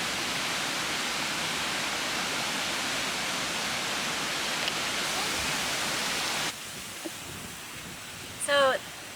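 Distant waterfall on a Puerto Rico farm after Hurricane Fiona flooding, heard through bamboo as a steady faint broadband rush that drops away near the end, replaced by quieter rustling and a brief chirping bird.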